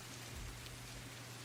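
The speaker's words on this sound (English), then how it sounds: "It's raining, it's cold." Steady rain falling on a surface in cold weather, a soft continuous hiss that fills the short stretch at an even level with no voices.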